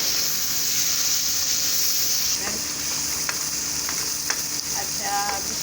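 Chopped onion frying in a pan until brown, a bright continuous sizzle close up with scattered spatula scrapes and small pops, growing busier toward the end.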